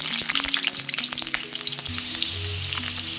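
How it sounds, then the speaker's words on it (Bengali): Potatoes sputter in hot oil in a pan, making a loud, close crackling sizzle with sharp pops and scraping stirs, and no one speaks. "তো এর মধ্যে প্রথমে আলুগুলো কষিয়ে নেব।"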